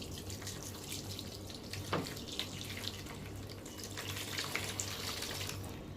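Water pours steadily from a bottle into a vessel laid over a spread cloth, a continuous close splashing trickle with small drips, fairly quiet and alone.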